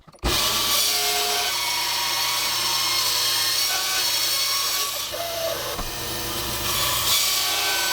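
A power saw cuts a cherry wood blank into a circle for bowl turning, starting abruptly and roaring steadily and loud with shifting rasp as the blade works through the wood, no voices.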